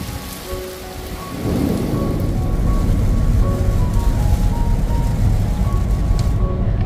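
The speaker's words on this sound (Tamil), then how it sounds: "அன்றைக்கி நாங்கள் போகும்போது செம்ம மழை" Heavy rain pounds down during a drive, the steady loud drumming swelling in after a quieter moment, with a low rumble of thunder or road noise beneath.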